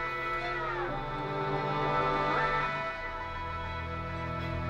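A guitar loop swells with sustained, string-like tones and shimmering harmonics, a low rumble running beneath it steadily throughout.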